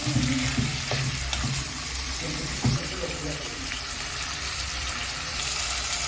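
Onions and meat sizzle steadily in a nonstick pan, a continuous loud frying hiss with occasional scrapes and clatter of stirring.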